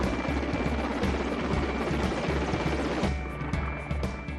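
A passenger helicopter on its first flight from Jammu airport to Vaishno Devi whirs loudly and close, its rotor thumping rhythmically over dense engine roar, then fading slightly toward the end.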